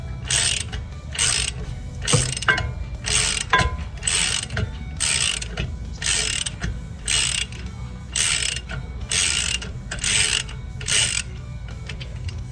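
A ratchet wrench clicks in steady repeated bursts while loosening a long size-16 bolt on a Miller Trailblazer 280NT welder generator, close and loud with a low mechanical rumble underneath and no talking.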